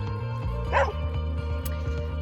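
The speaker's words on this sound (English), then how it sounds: "random dogs that like to come out." A dog gives a short bark close by, a single brief burst over a steady low hum and background rumble outdoors.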